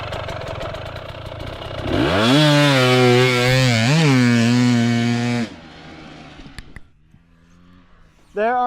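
A dirt bike on a training track screams past close by. The high engine note rises and wavers through gear changes for a few seconds, then drops away to a faint distant whine with scattered clicks.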